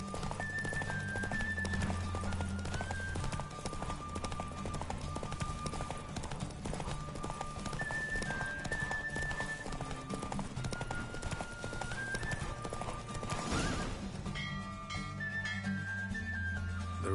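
Hooves of a horse galloping in a race in The Witcher 3 on PS5, a rapid continuous clip-clop close up under game music and ambience, with a brief swell of rushing noise near the end.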